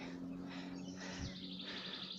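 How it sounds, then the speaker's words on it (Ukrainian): Hawk chicks in a nest give thin, high repeated calls, fairly close, over a steady background hum, with one brief low thump midway. "Орлятко, орлятко, ястреб. Це ж яструби."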